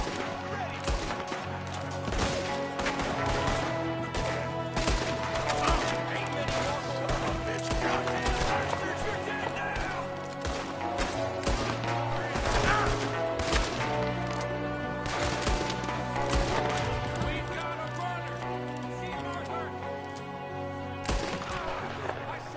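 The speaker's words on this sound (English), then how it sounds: "There's another one shooting from the window." Gunfire in a Red Dead Redemption 2 shootout, with dense, repeated shots that crack through a steady backdrop of music and game noise over a long stretch, with no clear pause.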